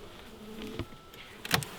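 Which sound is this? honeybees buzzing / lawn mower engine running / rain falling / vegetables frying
honeybees buzzing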